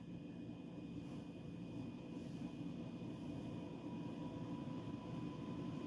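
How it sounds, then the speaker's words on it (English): A Codep Galaxy 52-inch ceiling fan runs on its high setting, giving a steady, even whirring hum with a thin, constant whine over a low drone, nearby and unbroken. "Here's high. Has a nice startup whine."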